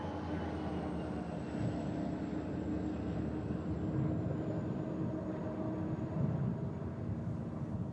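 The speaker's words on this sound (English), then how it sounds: "a UP coal train heads south" A Union Pacific coal train heading south on Colorado's Joint Line with distributed power helper locomotives, a steady low rumble of rolling cars and engine drone at moderate distance, constant throughout with a faint high whine.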